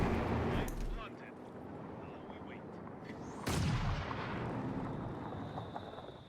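Mortar fire in the World War II strategy game Company of Heroes 2, with sharp booming explosions, including a loud one midway, rising over a constant battlefield rumble of distant gunfire.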